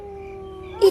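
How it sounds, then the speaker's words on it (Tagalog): A dog howling, one long, steady, fairly near howl holding a level pitch before breaking into a short louder yelp at the end. "Tataguob ti aso."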